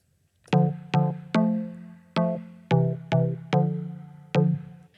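A layered synth house pluck and house stab play nine sharp, bright chord hits together in a syncopated rhythm. Each hit decays quickly, and the sound is clear and prominent with no voices.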